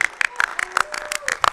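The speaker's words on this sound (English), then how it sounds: "The crowd is excited." A crowd at a varsity squash match claps in a quick, uneven patter of hand claps, moderately close, with a voice talking over it.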